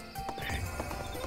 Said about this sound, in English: This man is riding a donkey